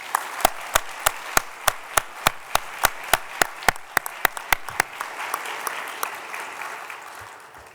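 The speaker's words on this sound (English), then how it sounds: "let's please give a large round of applause for all of them" Warm audience applause at an awards opening session, opening with a string of evenly spaced loud single claps that swell into dense, sustained clapping from a large crowd before gradually fading away.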